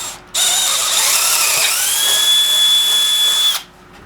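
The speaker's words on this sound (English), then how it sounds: "Let's start by drilling the hole in the wood." A power drill bores a hole through wood for a storage box shelf, its steady high whine rising in pitch midway and running close and loud for about three seconds before stopping abruptly.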